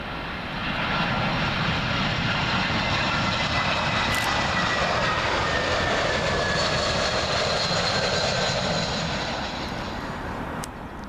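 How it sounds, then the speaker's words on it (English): A British Airways Airbus A320 arrives at Heathrow runway 27L, its loud jet roar passing close overhead and holding steady before easing off near the end, with whining engine tones drifting through the rumble. "Arriving next for you, British Airways A320, and this one arriving in from Dusseldorf."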